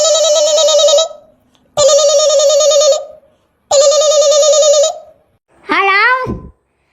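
Four bursts of tonal telephone beeps, three long evenly spaced tones followed by a shorter warbling one, as a phone number is dialed and the call connects; no talking.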